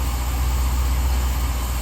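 A car engine idles steadily right after a Holley Terminator X Max fuel-injection install, giving a constant low, even hum with no talk.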